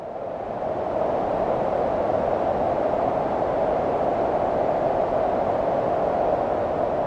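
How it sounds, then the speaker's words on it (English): Noise layer from a Nord Drum 3P drum synthesizer sent into a large reverb swells in within the first second, then holds as a loud, steady, washing ambient hiss centred in the midrange. "if you send noise into a big reverb, it just always immediately sounds like some nice ambient texture"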